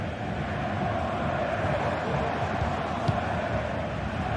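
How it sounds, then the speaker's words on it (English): Steady dense roar of a stadium crowd in a football video game, a continuous wash of cheering and murmur at even loudness throughout, with no single voice standing out. "Well, just listen to this crowd."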